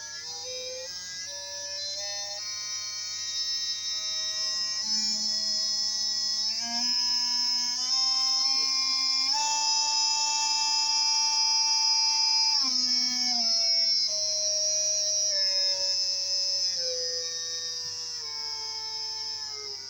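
The upgraded motor of a Redcat Scout 2 RC crawler runs slowly with a steady electric whine whose pitch rises and falls as the speed changes, close and continuous for the full twenty seconds, with no voices.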